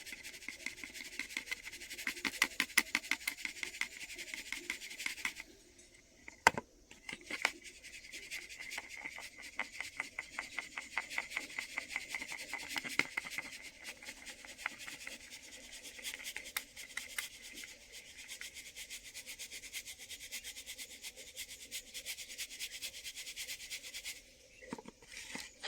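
Rice is ground by hand into flour on a grinding stone and sifted through a sieve, giving close, rapid, rhythmic rubbing and scratching strokes in bursts, with brief pauses between batches.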